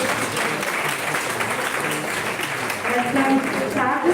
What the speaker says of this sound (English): I request the audience to clap for group 1.